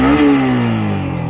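A Yamaha MT-15 motorcycle with its stock exhaust revs close by, one loud, brief throttle blip whose pitch sweeps downward as the engine settles.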